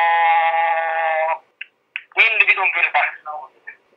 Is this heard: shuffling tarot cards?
no